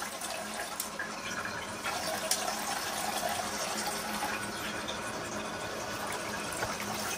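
Steady, low hiss of a hands-free toilet bidet spraying water upward at high pressure, running continuously without pause, fairly quiet and close, with no voices.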